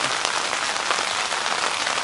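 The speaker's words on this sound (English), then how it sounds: "at the end of that first flush system it's dripping" Rainwater drips and splashes steadily from the first flush system of a two-story house's rain gutter, a continuous close, bright patter with no talk.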